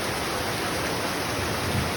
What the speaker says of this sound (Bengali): জোরে বৃষ্টি হলো দেখো